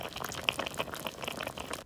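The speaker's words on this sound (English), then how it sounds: "my favorite thing about this dish was the sound of the simmering" An Irish stew simmers in a pot with little water, giving a steady soft bubbling of small pops and gurgles, close and moderately quiet, with no talking.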